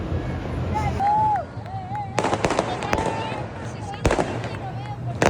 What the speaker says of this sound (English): When the first fireworks crackle and pop, it's like the city's signal to descend into controlled chaos.